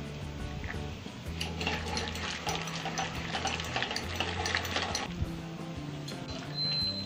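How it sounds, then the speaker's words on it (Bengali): Boiled moong dal being mashed in a pot for a pumpkin dal, a steady run of soft stirring and squelching scrapes, close and continuous, with quiet music running underneath and no talking. "ডালটা সিদ্ধ হয়েছে, এইবার আমি ডালটা একটু কাটা দেব।"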